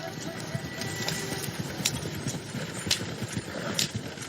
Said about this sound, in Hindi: जब घोड़ा गाड़ी उसकी नजरों से ओझल होने लगी